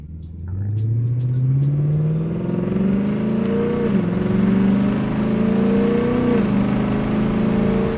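A loud car engine revving with a deep, throaty modified exhaust, pitch rising and falling across two throttle blips, close by and continuous.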